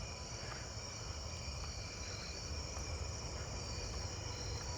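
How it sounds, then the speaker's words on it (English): Pine tree crickets call at night in a steady, continuous trill that fills the background, with faint other insects mixed in and no voices. "I hear the pine tree crickets"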